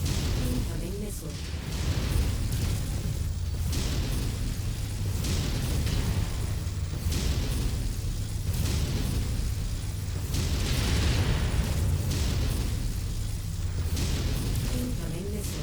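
Missile explosions in MechWarrior 5 boom repeatedly, heavy bursts arriving every couple of seconds over a constant rumbling battle din, with speech mixed in among the blasts.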